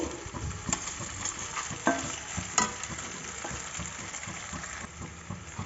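Egg and boiled vermicelli are stirred together in a hot pan, giving a low sizzle with uneven scrapes and clinks of the spoon against the metal, close by and with no talk.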